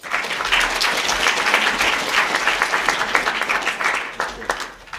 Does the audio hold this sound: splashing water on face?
no